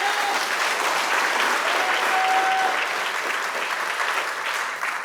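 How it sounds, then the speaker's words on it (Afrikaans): An audience at a civic ceremony gives loud, sustained applause, a steady dense clapping that carries on evenly throughout. "Geef hulle nog 'n lekker hande klap."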